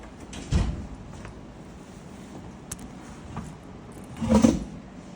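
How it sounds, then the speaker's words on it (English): A door is shut in a quiet room: a soft bump and slide early on, a faint click midway, then a louder closing thud near the end, with no talking. "I'm gonna go close my door."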